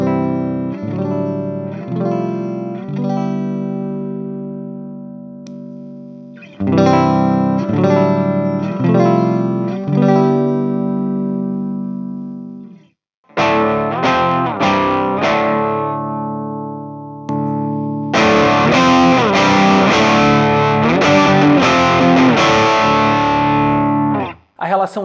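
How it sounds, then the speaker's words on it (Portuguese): Electric guitar played through a boost effect that pushes an already saturated, overdriven tone into heavier distortion, with sustained chords and riffs in sections separated by brief pauses, loud and alone. "É um efeito bem simples em essência, porém, quando usado com um som que já traz saturação, o que ele faz é incrementar essa saturação"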